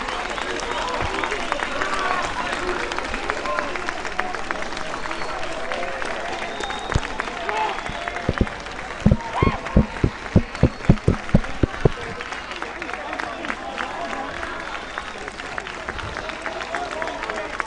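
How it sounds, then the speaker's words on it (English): At a schoolboy rugby match between Maritzburg College and Durban High School, student supporters cheer in the distance. The crowd noise runs throughout, with a burst of rhythmic group clapping in the middle, while a commentator talks over it. "The cheer that you might be hearing in the background is from the DHS students as the first team make their way down to the"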